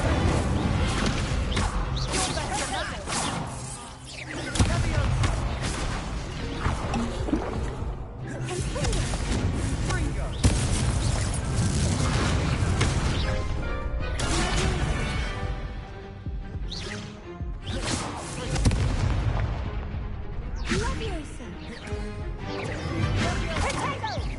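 Incendio fire spells blast repeatedly in the Hogwarts Legacy video game, giving loud, dense whooshing bursts and crashing impacts in steady succession amid busy combat effects.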